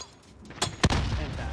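A grenade explodes in a Call of Duty: Modern Warfare firefight, a sharp, punchy blast followed by a rumbling tail, with scattered gunfire and a voice shortly before.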